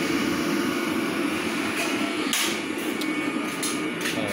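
Loud exhaust roar from the blower of a homemade water steam cooler, a steady broadband rush that holds level throughout with a few brief sharp clicks and knocks on top.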